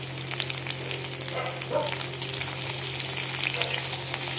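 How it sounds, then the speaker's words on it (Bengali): Vegetables sizzle and fry steadily in hot oil in a pan, radish, pumpkin, eggplant, potato, pointed gourd and ridge gourd being cooked for a prawn and Malabar spinach curry, with occasional stirring scrapes throughout. "সবজিগুলো সব ভেজে নেব।"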